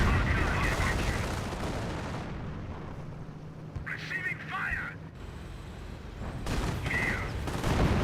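A bunker firing on a captured Flak 88 gun in Company of Heroes, heard as a dense rumble of gunfire and explosions with a few sharp bursts, while someone talks over the battle.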